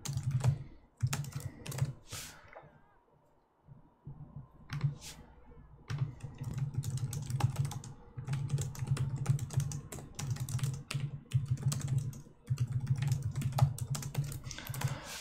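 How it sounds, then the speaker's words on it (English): Close typing on a computer keyboard during a Monster Hunter World livestream, rapid clicking keystrokes in bursts separated by short pauses, with a low background hum underneath. "Can you hear me tippity typing?"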